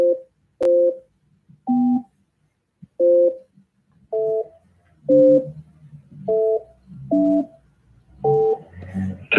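Telephone keypad tones entering a host PIN on a call-in radio line, a series of about ten short, clear two-tone beeps spaced roughly a second apart, with faint background noise between them.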